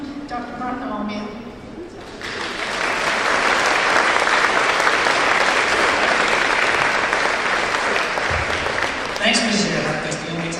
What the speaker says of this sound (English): That's the only time anyone ever claps for me